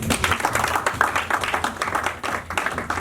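Church congregation clapping and cheering in praise of the Lord during a sermon, a dense continuous wash of hand claps with mixed voices for about three seconds.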